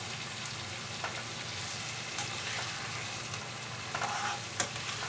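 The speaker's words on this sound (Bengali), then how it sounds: "এবার মাংসটা মিশিয়ে দিই।" Boiled mutton being stirred into frying masala for Bengali mutton kosha: a steady close sizzle with intermittent spatula scrapes and knocks against the pan, with no voices.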